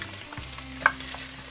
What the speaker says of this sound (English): Ooh, sizzling hot.